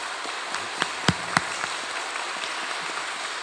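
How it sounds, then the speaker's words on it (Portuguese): Applause breaks out in a church during a Mass of the Santo Antônio novena, a steady wash of clapping from a crowd heard at some distance, with a few sharper claps standing out. "uma salva de palmas para ele."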